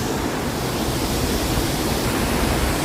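Salmon Falls waterfall in Ketchikan, Alaska, roaring as a steady, dense broadband rush of falling water with no breaks, loud and continuous throughout.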